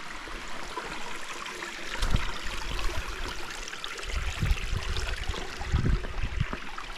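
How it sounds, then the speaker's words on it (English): Heuningbos River, a stream on a Tsitsikamma hiking trail, flows with a continuous close rushing and gurgling wash, punctuated by a few low splashes and knocks, with no talk. "So this must be Heuningbos River."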